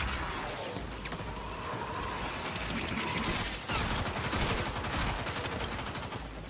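Rapid burst-mode gunfire from a weapon in the video game Warframe crackles continuously and loudly, dense overlapping shots filling the whole stretch with no voices.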